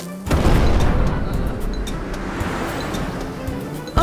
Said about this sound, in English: I think the volcano is erupting.